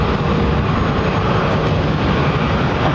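Aircraft roar at London Heathrow Airport, a loud, steady, broadband jet-engine rumble filling the short stretch with no speech.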